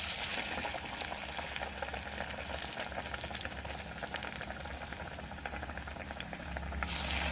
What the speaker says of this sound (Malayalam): ഇനി നമുക്ക് ചെറുതായിട്ട് തട്ടിയിട്ട് ഒന്ന് കാഞ്ഞ എണ്ണയിലേക്ക് ഇടാം